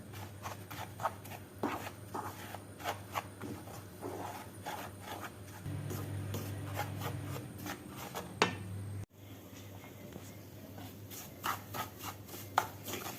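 Semolina halva stirred and roasted in a pan, a spoon making soft, irregular scraping and tapping strokes against the pan, close but quiet, with a low steady hum underneath.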